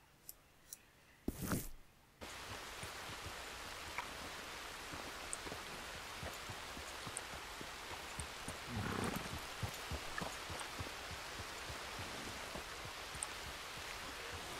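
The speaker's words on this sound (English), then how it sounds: "That rain." Steady rain falls in Red Dead Redemption 2, a dense continuous hiss with scattered drop clicks that runs nearly throughout, after a brief louder burst near the start.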